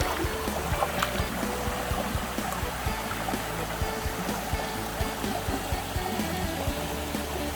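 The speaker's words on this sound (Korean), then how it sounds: "물소리" A mountain stream flows through a valley in a cypress forest on Chukryeongsan, giving a steady, even rush and trickle of water heard alone at a moderate level.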